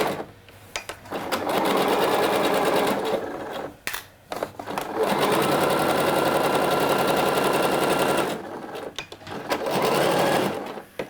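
A sewing machine sews French seams on a ruffle, running loud and close in three long bursts of rapid stitching separated by brief pauses.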